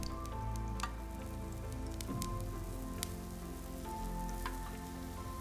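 Ghee crackles and sizzles on a dosa spread over a hot griddle, a steady close frying hiss with small pops throughout and no talking.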